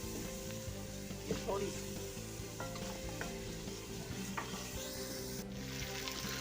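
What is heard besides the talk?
masala with kalonji frying in a pan for ojri curry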